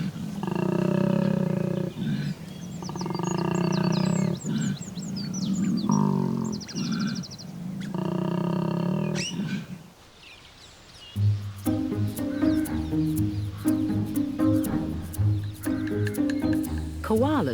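A male koala bellows during mating season: repeated loud, rhythmic snoring-and-belching roars in several bursts, close by, followed by chirping birds and a narrating voice.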